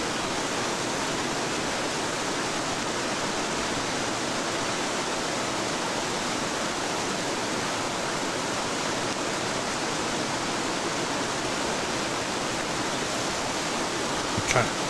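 A storm at sea in the survival game Escape The Pacific, heard as a dense, steady roar of wind and rain that does not let up and has no talk over it.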